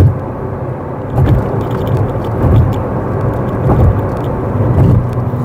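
A McLaren Artura supercar drives over mid-corner road expansion joints, its engine and tyre rumble steady with a series of dull regular thumps as the wheels cross each joint.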